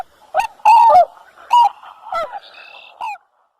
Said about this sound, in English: swan,